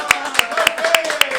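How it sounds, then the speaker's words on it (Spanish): A studio audience claps for a guest on a podcast set, giving five or six sharp, evenly spaced claps over a continuous voice. "Aplausos para ella."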